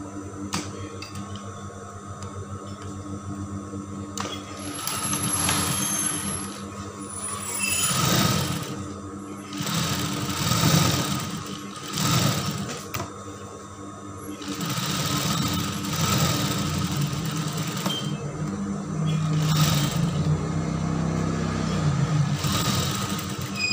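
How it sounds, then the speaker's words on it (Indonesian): A sewing machine stitches the side seam of a draped skirt, its motor whirring in steady runs that stop and restart several times, close and clear with a little faint talk in places. "Nah, sekarang bagian sisinya udah kita jahit"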